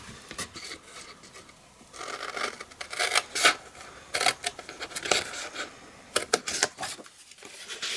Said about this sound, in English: Burnish the score line.